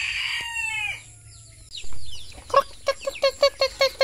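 Backyard chickens with a rooster, a long crowing call at the start followed by a run of short, sharp clucks repeating rhythmically at close range, no talk.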